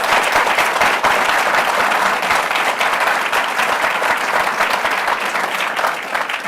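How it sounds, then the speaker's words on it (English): An audience at a State Farm scholarship event breaks into a big round of applause. Loud, dense clapping continues evenly for the whole stretch, with no talking over it. "let's have another big round of applause for her."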